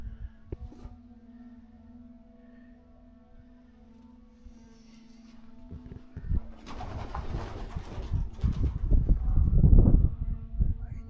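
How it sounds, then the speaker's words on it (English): Pigeons coo in an old church bell tower, low soft repeated calls close by, growing into louder rustling and fluttering movement near the end. "Lots of pigeons up in the bell tower, or the old bell tower."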